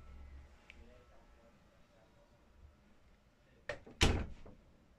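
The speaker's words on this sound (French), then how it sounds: "Y a-t-il quelqu'un qui a fermé ma porte?" A door swings shut indoors with a sharp double thud and rattle near the end, following a few seconds of quiet room tone with faint voices in the background.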